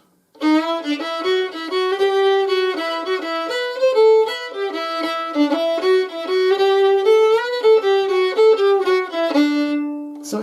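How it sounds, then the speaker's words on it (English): A fiddle plays the Irish slip jig Kid on the Mountain at full speed, with a bright, continuous flow of quick bowed notes in a lilting triple rhythm for about ten seconds, close and solo, with no talking. "So at full speed it sounds like this."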